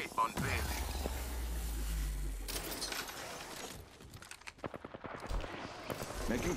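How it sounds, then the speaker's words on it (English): Gunfire from Apex Legends aimed at an enemy shield: rapid bursts of shots with sharp repeated cracks in the later part, mixed with game effects and voices talking over it. "I shot at an enemy shield."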